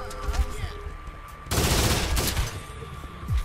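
A shotgun blast from the Zombie Panic: Source video game, one loud wide burst in the middle that decays over about a second, with talk and game noise before it.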